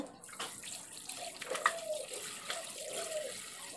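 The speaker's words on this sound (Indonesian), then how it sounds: "jadi ini air kotornya saya buang dulu saya bilas sampai bersih ya" Dirty first-boil water is poured from a pot into a kitchen sink and the contents rinsed under running water, a steady broadband splashing and gurgling stream with brief clatters, close and moderately loud, with no talking.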